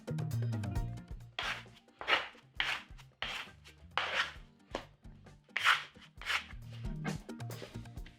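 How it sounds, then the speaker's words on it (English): Chapati dough kneaded by hand with extra flour worked in, giving a steady run of soft slapping, pressing and rubbing strokes, close and fairly loud with no talk. "Now I've continued to knead this dough, added some more extra flour"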